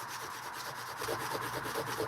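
Rapid back-and-forth rubbing of a pure copper dragon ring on 3000-grit abrasive, a close, steady, even scratching hiss with a quick rhythmic pulse and no talk.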